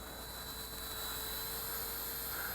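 An XK K127 Eagle 4-channel stabilized RC helicopter hovers nearby, its rotor giving a steady, thin, high-pitched whine over a constant hiss, with no voices.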